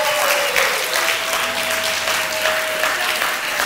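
A congregation at a Sunday church service applauds, a dense, continuous round of clapping throughout, with a faint voice and a brief tone heard underneath.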